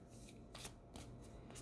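Moonology oracle cards riffle and slide in a soft, close shuffle, several brief papery bursts at low volume with no voice over them.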